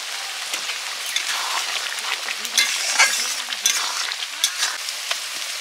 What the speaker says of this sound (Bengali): ডালে এবার ভাজা মশলা দিয়ে দিচ্ছি।